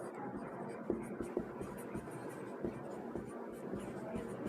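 Pen on paper as a math solution is written out by hand, quiet scratchy strokes and small taps in an irregular rhythm against faint room noise.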